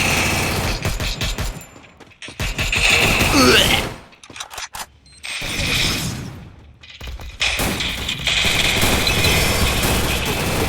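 Heavy gunfire from the mobile shooter game Free Fire, with loud rapid bursts and fusillades close by, broken by brief pauses and thuds, and game sounds carrying on between the volleys.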